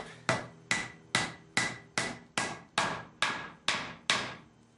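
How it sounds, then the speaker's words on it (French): Ten evenly spaced hammer blows drive wooden dowels into posts for a raised garden bed, each a sharp close knock with a short decaying ring, delivered in a steady rhythm with no talking. "une petite astuce pour enfoncer les tourillons de façon équivalente dans tous les poteaux"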